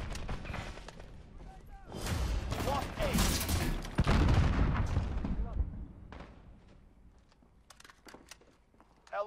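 A cruise missile strike in the Call of Duty Modern Warfare beta on the Grazna Raid map lands as a loud rolling barrage of explosive booms and crackling blasts that swell, then fade, with a voice speaking over it.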